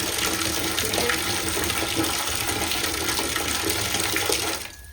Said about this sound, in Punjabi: ਬਾਲਟੀ ਦੇ ਵਿੱਚ ਆਪਾਂ ਪਾਣੀ ਪਾਣਾ